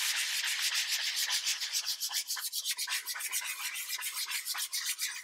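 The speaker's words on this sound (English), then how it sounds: "you can just take your sandpaper and just gently go over it" Sandpaper rubbed gently over dried paint on a paper lapbook, a soft, rhythmic hiss of quick back-and-forth strokes, close and fairly quiet, with no voices.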